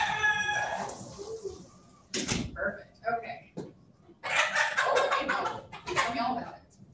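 Laying hens on a farm being prepared for a poultry fair, clucking and squawking in bursts while being caught and handled, with a few louder flurries of calls.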